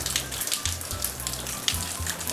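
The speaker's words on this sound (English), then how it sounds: "Yes, it's raining." Rain falling outside, a soft steady patter with scattered drops over a low background hum, faint and continuous with no talk.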